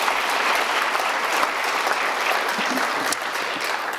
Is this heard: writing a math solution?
no